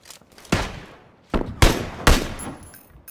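Gunfire in the battle royale game PlayerUnknown's Battlegrounds, with several loud, close shots in irregular bursts, each followed by a short decaying tail.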